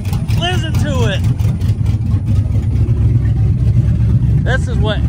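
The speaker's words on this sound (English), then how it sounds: "CAMMED Silverado with no exhaust" A cammed Chevrolet Silverado with no exhaust rumbles loudly at a lopey, uneven idle close by, a deep throbbing drone throughout, while people talk over it at the start and end.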